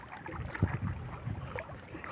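Strong wind and rough sea waves around a small fishing boat near an island, a constant rushing gusty roar with low watery surges and buffeting, no talk.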